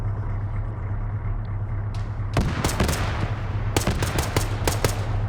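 Gunfire from a team-based video game match, with sharp bursts of shots and several rapid volleys building in the second half over a steady low engine-like hum, fairly close and loud.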